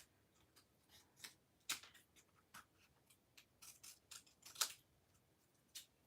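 Scissors snipping through paper around an awkward, funny shape, a quiet run of short irregular cuts and rustles with a few sharper snips, close and faint with no talking.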